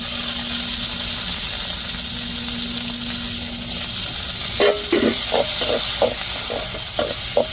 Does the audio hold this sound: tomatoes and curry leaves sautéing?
yes